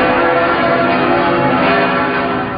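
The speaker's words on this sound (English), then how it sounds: "The bells are deafening." Notre Dame Cathedral's church bells ring loudly and continuously, their overlapping metallic tones blending into a dense, sustained wash of sound with no pauses.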